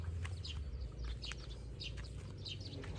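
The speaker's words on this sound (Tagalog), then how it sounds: "naririnig nyo ba yun? Ang huni ng ibon." Several birds chirp and tweet in scattered short calls in the mountains of Atok, Benguet, Philippines, over a steady low rumble of outdoor background noise, with no one talking.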